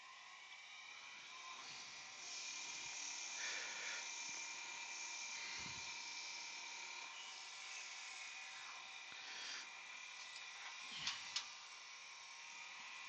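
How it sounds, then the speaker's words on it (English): Wood lathe drilling a hole with a 10 mm Forstner bit in the tailstock while turning an earring stand, a steady whining drone that rises in level partway through and carries a couple of sharp knocks near the end. "We'll bring the tailstock up and drill that hole."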